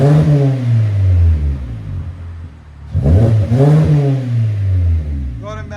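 A 2014 Kia Optima EX GDI with a 2.4L engine and a muffler delete revs up twice, giving a deep, loud droning exhaust note that rises and falls, close by.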